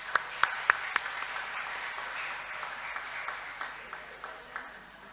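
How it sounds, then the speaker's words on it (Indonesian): A Sunday service congregation at GKJ Salib Putih church applauds for Pastor Daniel: a few sharp claps open into a soft, moderate patter of clapping that gradually thins out. "Monggo kita berikan tepuk tangan untuk Pendeta Daniel."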